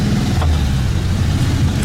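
A cold 1974 VW Super Beetle engine drones steadily while cruising, a loud, close, low rumble that holds even throughout with no talking.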